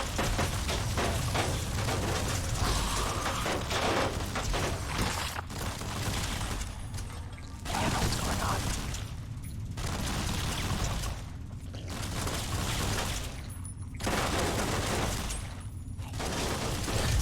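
A turret in Fallout: A Tale of Two Wastelands fires sustained volleys, a dense crackling roar of repeated shots that cuts out into short gaps and resumes several times, loud throughout with no talk.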